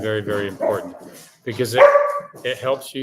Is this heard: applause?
no